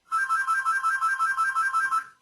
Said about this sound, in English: My phone's going to tweet again if I don't turn it off.